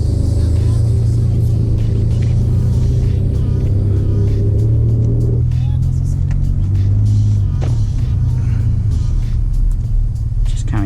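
A tuned Ford F150 EcoBoost pickup in sport mode, heard from inside the cab, gives a loud, steady low engine rumble that drops in pitch midway as it accelerates along a back road, with a voice occasionally speaking over it.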